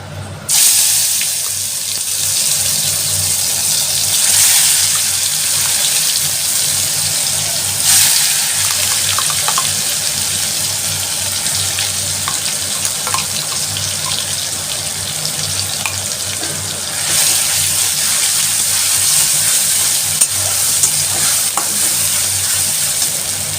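Borboti (yardlong bean) paste frying in hot oil seasoned with bay leaf, nigella seeds and hing, a steady loud sizzle with intermittent stirring scrapes running throughout, no voices.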